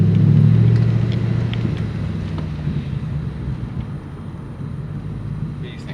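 A 1999 Ford Mustang GT on new tires and shocks, heard from inside as a steady low engine and road rumble that starts loud and eases slightly, with some wind noise.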